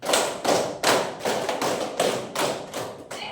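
Hands clap out a patterned rhythm in a clapping game: a quick series of loud, close claps grouped in short sets, with no speech.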